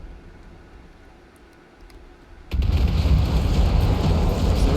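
Broadband cannon fire erupts in a From the Depths battleship battle, a sudden loud blast after a quieter stretch that turns into a sustained, dense roar of gunfire and rumble.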